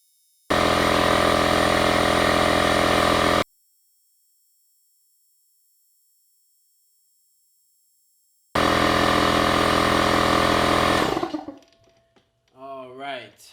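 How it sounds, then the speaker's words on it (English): A small pancake air compressor runs loudly and steadily while inflating 42-inch TSL tires on a Jeep YJ, in two long bursts separated by a pause, then cuts off as a voice begins speaking. "a little under 5 minutes to get this aired up with this little Pancake compressor"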